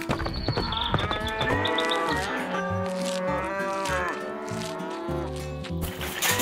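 Cartoon cows on a playful farm let out a string of drawn-out, wavering moos, loud and near, running continuously over a busy, tonal backdrop with no talking.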